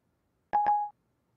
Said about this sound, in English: I can also dial a phone number like this.